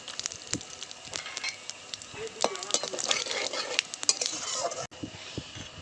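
Whole cumin, bay leaves, large cardamom and cinnamon tempering in hot oil for a Gondhoraj chicken, giving a low crackle and sizzle with scattered sharp pops and a few utensil clinks, close by and steady throughout.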